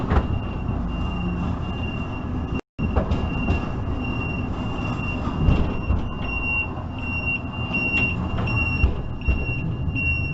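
A zoo ride train runs steadily on its rails with continuous rumbling and clatter, thin wheel squeals rising over it, and a brief dropout partway through.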